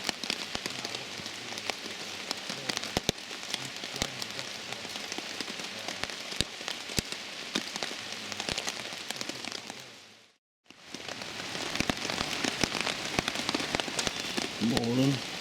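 Heavy rain pours steadily over a woodland camp all night, a dense, close hiss of drops drumming on a surface with occasional sharper hits, briefly cut to silence before resuming just as heavy.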